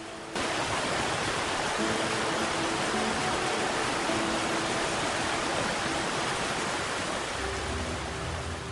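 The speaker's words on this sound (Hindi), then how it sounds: "आप रास्ते में काफ़ी आकर्षक वाटरफॉल से गुजरते हैं" A waterfall along the Valley of Flowers trek in Uttarakhand pours with a constant dense rushing roar, loud and steady without pause, no voices.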